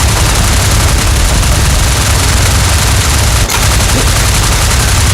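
Aircraft machine guns strafing in IL-2 Flying Circus, a dense and continuous roar of rapid gunfire mixed with engine drone that stays loud and unbroken throughout.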